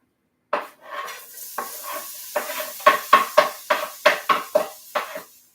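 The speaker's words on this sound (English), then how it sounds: "Y'all hear that sizzle?" Fish sizzles steadily in a hot pan, broken by a run of sharp, rhythmic scraping strokes, like a utensil stirring and pushing it around.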